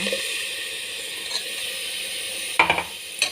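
Ground tomato paste frying in a pan, a steady close sizzle with brief clatters of stirring near the end.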